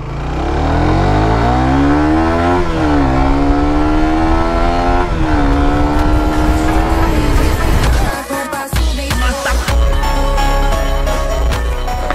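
A Suzuki GSX-R sport motorcycle engine running in first gear, a loud close continuous drone with rising and falling revs, a brief dip near the end, then renewed rough engine noise.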